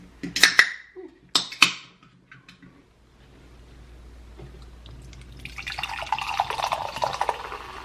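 Watermelon LaCroix sparkling water poured into a glass: a few sharp clinks and taps first, then a rising fizzy splash of pouring liquid with carbonated crackle over the last few seconds.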